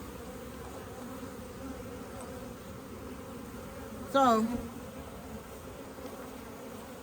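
Honey bees buzz around an open, booming hive during an inspection, a steady low hum under a brief louder buzz near the middle as one flies close.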